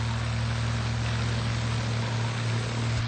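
A P-40 warplane's piston engine runs steadily at 2300 RPM during a pre-flight run-up, heard from inside the cockpit as a loud, constant droning roar with a strong low hum.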